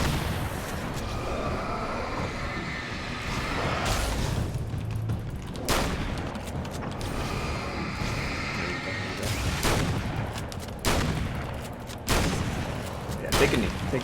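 Gunfire in a video game shooter: repeated sharp shots and booming blasts over a busy, rumbling background, with talking mixed in.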